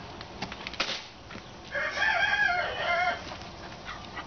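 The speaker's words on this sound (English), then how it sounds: "You can hear the roosters crowing in the background." A rooster crows once in the distance, a long drawn-out call rising over steady outdoor background noise.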